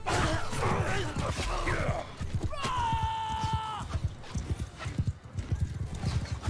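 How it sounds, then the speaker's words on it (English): Cavalry horses charging in Mount & Blade II: Bannerlord: rapid clip-clop of many hooves rumbling continuously, with a loud whinny rising over the battle noise midway and shouting voices throughout. "Cavalry, charge."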